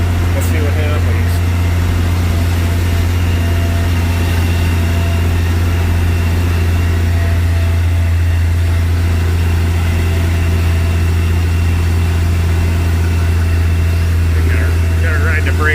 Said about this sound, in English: The hill's so steep, it's pulling hard on the tractor